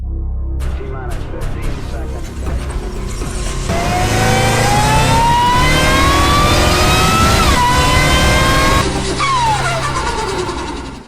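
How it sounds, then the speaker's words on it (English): A 2023 Dodge Charger Scat Pack Swinger Special Edition revving and accelerating, a loud engine roar climbing steadily in pitch, dipping and climbing again, with a voice speaking over it. "That is the 2023 Dodge Charger Scatpack Swinger Special Edition."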